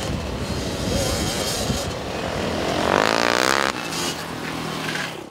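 Motorcycles racing at an extreme enduro championship, their engines a steady loud drone that swells into a harsher high-revving whine near the middle, then drops back.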